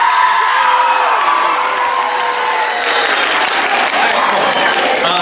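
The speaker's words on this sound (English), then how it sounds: "Give a round of applause." A crowd at a high school eighth-grade step-up day applauds steadily and loudly, with a few cheers and whoops mixed into the dense clapping, which lasts throughout.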